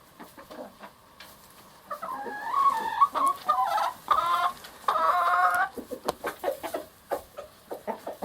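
Chickens cluck in a backyard flock that includes a rooster named Obsidian. Soft scattered clucks build into louder, drawn-out calls in the middle, then fall back to quick close-up clucking.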